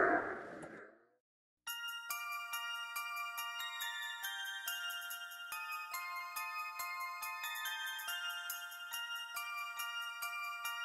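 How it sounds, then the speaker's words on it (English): Small jingle bells ring continuously in a bright, steady tinkling shake after a brief moment of muffled rustling and silence, close and fairly loud, with no talk over them. "Jingly bells!"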